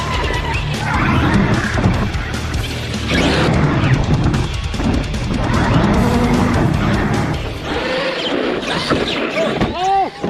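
A remote-control car races and crashes, with a whining electric motor, skidding scrapes and hard impacts rising over steady background noise, while people talk excitedly close by.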